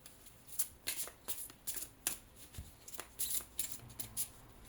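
A deck of cards shuffled in quiet bursts of crisp riffles and light slaps, close by with no one talking.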